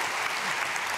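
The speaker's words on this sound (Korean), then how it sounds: "우리 크게 박수로 축복하겠습니다" A church congregation applauding during an early-morning prayer service, a dense, even wash of clapping that holds steady for the whole moment without pause.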